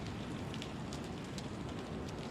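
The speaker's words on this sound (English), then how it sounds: "the winds are picking up. The rain is increasing." Heavy rain lashes down with gusting wind as Hurricane Dorian strikes Myrtle Beach, South Carolina: a dense, steady roar of downpour filling every moment, loud and unbroken, with no voices.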